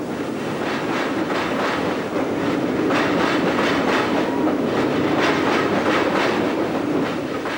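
A train on the Llangollen Railway near the River Dee bridge rolls past with a steady rumble and rhythmic clickety-clack of wheels over rail joints, sustained and fairly close, with no talking.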